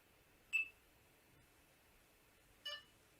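Two short electronic beeps from a Delkim Txi-D bite indicator set to beep speed level 1, spaced about two seconds apart over a quiet background.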